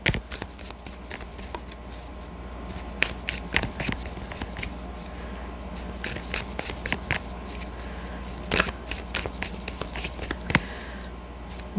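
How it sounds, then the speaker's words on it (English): A Crazy Sexy Love Notes oracle card deck by Chris Carr is shuffled, giving repeated soft riffling taps and slaps in an irregular rhythm, close and fairly quiet against low room noise. "So I'm right now shuffling the Crazy Sexy Love Notes deck by Chris Carr."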